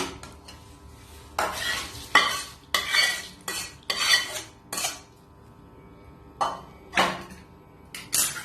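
Tempering is stirred into cooked semolina for lemon rawa pulihora, a spoon scraping and clinking against the vessel in repeated bursts of stirring with short pauses between, close and fairly loud, with no talk.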